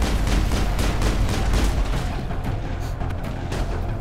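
Rapid, dense gunfire in the Mass Effect video game: a loud, continuous volley of overlapping shots with heavy low-end thumps, dropping slightly in intensity toward the end.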